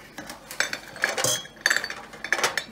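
A glass jam jar clinks as apricot jam is spooned into it in a kitchen, giving several light, bright taps spaced irregularly, close and clear.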